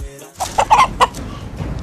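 A fighting rooster clucks in a short burst of loud, close, choppy calls, several quick notes in a row over a faint background murmur.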